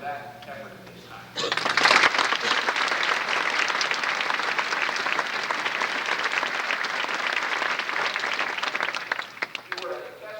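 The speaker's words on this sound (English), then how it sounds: "I'd like to applaud you for that effort at this time." A large audience applauds a graduating class at a high school ceremony, loud sustained clapping that bursts in after a brief spoken line and carries on for about nine seconds before thinning out near the end.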